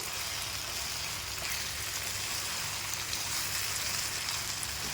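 Keema and tomato frying on full flame while being stirred, a steady, even sizzle and hiss throughout with faint scraping, no speech.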